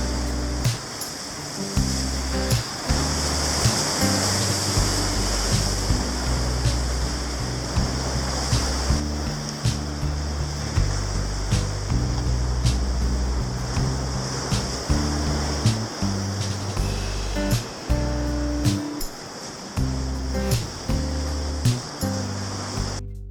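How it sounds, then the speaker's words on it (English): Ocean waves break steadily on a beach on the Gower coast, a loud continuous surf wash with rolling swells rising and falling, heard close with no voices. "We sat down here quite some time just watching the waves."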